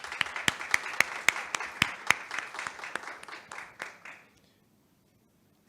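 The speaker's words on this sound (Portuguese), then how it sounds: "E palmas, né?" An audience at a live awards-launch ceremony applauds for about four seconds, steady clapping from many hands that thins out and fades to near silence.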